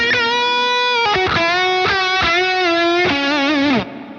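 Sustained electric guitar lead line played through a Revival overdrive pedal, singing notes with bends and vibrato, several picked phrases ringing out with a warm saturated tone before cutting off near the end.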